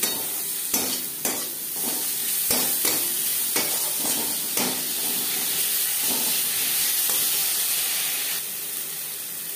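Onions fry in oil in a pan with salt, ginger and green chilli paste, a steady loud sizzle broken by repeated scraping strokes of a spoon stirring through them, with no voices.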